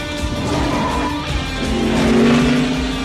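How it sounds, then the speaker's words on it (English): Race cars roar at close range in a stock car race, engines droning steadily with rising tonal whine and a tire squeal near the end, loud and continuous without talk. "Here come the cars to the finish line."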